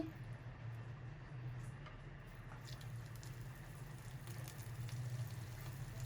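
Bhindi pakora fry in hot oil over low heat, giving a soft, steady sizzle with faint crackles. The sound stays quiet and constant throughout.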